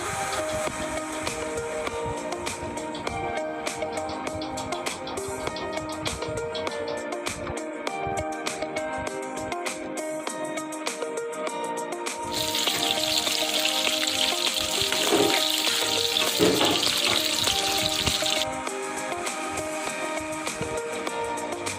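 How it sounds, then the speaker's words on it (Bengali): Chunky carrot pieces and onions fry in hot oil, giving a steady, dense crackling sizzle that swells louder for several seconds midway, then settles back. The sound is close and continuous, with no talking. "বড় বড় পিস করে রাখা গাজরের টুকরো আর পেঁয়াজগুলো যে ছাড়িয়ে রেখেছি সেগুলো আস্তে আস্তে গরম তেলে ভাজতে শুরু করলাম"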